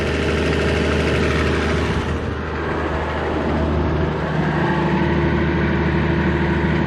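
A vehicle engine idles steadily while warming up to temperature and being checked for leaks after radiator work, a continuous low hum close by with no talk.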